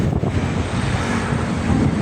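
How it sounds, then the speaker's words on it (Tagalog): Strong wind outside a large shopping mall buffets the microphone in a constant, loud, rumbling roar, with no voices over it. "Malakas ang hangin."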